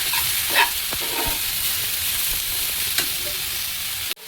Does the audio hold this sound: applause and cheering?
no